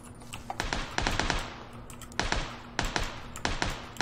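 Gunfire in the video game PUBG: sharp shots come in short bursts with brief pauses, a few rapid cracks near the start followed by spaced single reports and clusters, fairly close and loud over low game ambience.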